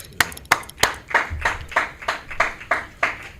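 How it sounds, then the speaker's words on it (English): Congregation clapping at a Sunday scripture gathering of a Hebrew Israelite school in Houston: a steady series of sharp, fairly close claps, roughly three per second, with a few isolated louder smacks at the start and no talking. "y'all clap it up"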